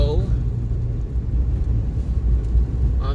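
Low, steady road rumble from a car driving through rough city streets in East Oakland, continuous for a few seconds, with a voice heard faintly at the edges.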